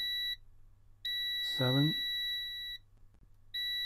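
A multimeter in continuity mode beeps with a steady high tone while its probes test the pins of an Epson L1800 printhead cable. The beeps come as sustained tones separated by short gaps, and someone speaks briefly between them.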